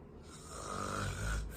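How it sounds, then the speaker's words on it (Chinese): Loud snoring from a sleeping man in bed indoors, a long continuous rasping breath that swells louder toward the end, with no talking. "就这呼噜大叫人家真睡觉哈"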